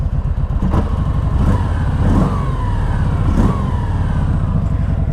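A 2019 Kawasaki Vulcan Vaquero's warm 1700cc 52-degree V-twin rumbles loud and close at idle, with its throbbing exhaust swelling through several throttle blips, alone without any talk.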